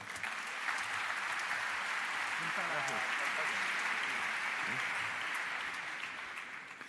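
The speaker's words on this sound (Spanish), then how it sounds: "Un fuerte aplauso para Fernando." Audience at a Naukas 2017 science talk applauding in a hall, a broad, sustained wash of clapping that holds steady throughout and tapers slightly at the close, with faint voices underneath.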